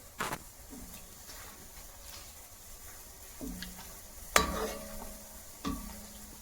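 Koftas for malai kofta curry frying in oil, a soft continuous sizzle with a few sharp clicks and taps of a utensil against the pan.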